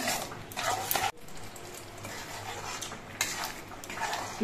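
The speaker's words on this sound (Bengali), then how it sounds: "এবার এগুলো সব নেড়ে চেড়ে মিশিয়ে নিয়ে বেশ কিছুক্ষণ কষিয়ে নিতে হবে" Spices for yogurt chicken are stirred in a pan, a spoon scraping and clinking against the metal in several loud bursts with a soft background hiss between strokes.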